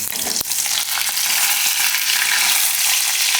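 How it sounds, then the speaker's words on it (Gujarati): Cumin seeds drop into hot oil and set off a loud, dense sizzle and crackle, preceded by a brief clatter, with no voices. "તો તેલમાં આપણે જીરું નાખી દેવું"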